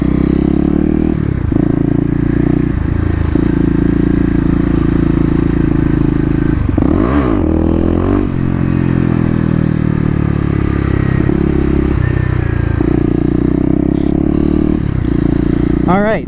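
Kawasaki KLX250 dirt bike ridden in a parking lot during wheelie practice, engine droning close with throttle blips and revving swells, plus occasional clatter and scraping.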